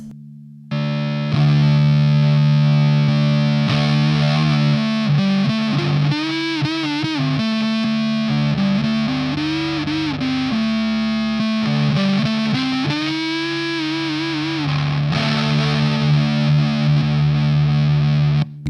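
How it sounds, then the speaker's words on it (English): Electric guitar played through a Boss DS-1 distortion pedal alongside a fuzz pedal, loud and sustained, with held chords and bending lead notes carrying on without a break and no talk. "the main reason I run the DS1, man, is because before I was using it, the Swollen Pickle is just so fuzzy"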